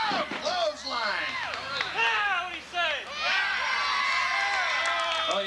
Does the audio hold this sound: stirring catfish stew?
no